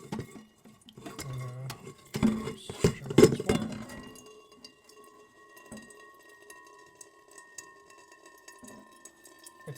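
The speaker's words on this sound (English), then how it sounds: "all we can do now is really just fill up a kettle" A kettle is held under a slow tap during a wildfire blackout, with clinks of metal and handling at first, then a thin, quiet trickle of water running steadily into it.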